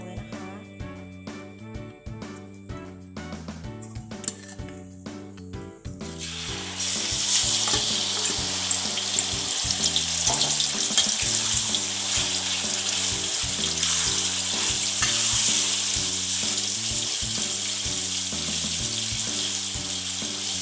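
Pork with garlic and pepper drops into hot oil and bursts into loud, steady sizzling frying that continues without a break, with rhythmic background music under it.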